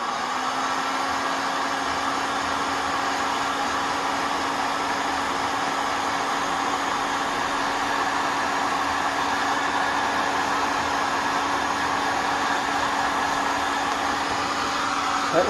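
Heat gun blowing hot air onto heat shrink tubing over amplifier wiring in a Quad 405 power amplifier, a steady airy roar with a low motor hum, continuous and close for about fifteen seconds, no talk.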